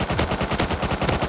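Rapid rifle fire in Rust, a loud close burst of about a dozen evenly spaced shots fired in quick succession, with no talking.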